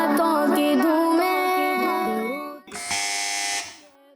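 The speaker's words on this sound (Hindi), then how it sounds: "इस बार भी सबसे पहले बज़र बजाई है टीम ए ने" A quiz-show buzzer pressed by team A on a children's program sounds as a loud sustained electronic tone, followed by a brief gap and then a second harsh, noisy buzz lasting under a second.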